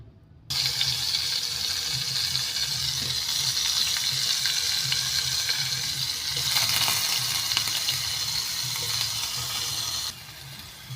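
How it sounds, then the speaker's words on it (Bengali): Paneer pieces fry in hot oil seasoned with salt and turmeric, starting abruptly as a loud, dense, close sizzle that holds steady for about ten seconds before dropping back. "পনিরগুলোকে একটু লালচে করে ভেজে নিচ্ছি।"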